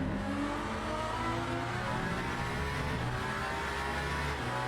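A BMW race car at Le Mans in a racing video game revs hard at full throttle, its dense engine roar climbing through gears amid other cars, loud and continuous with no voices.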